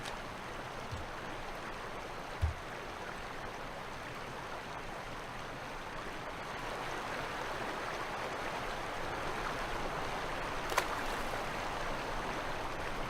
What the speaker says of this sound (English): so we can hear more nature and less water rushing